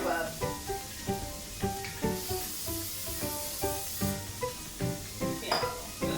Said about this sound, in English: while that finishes sauteing a little bit